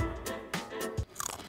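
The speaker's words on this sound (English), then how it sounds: "Do you have to eat crickets, mate?" Barbecue roasted crickets crunched between the teeth, with several sharp crisp bites and squishy chewing in an uneven rhythm, close and fairly quiet, no talking.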